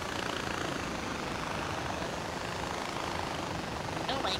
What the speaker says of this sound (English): I like this chopper, it's badass.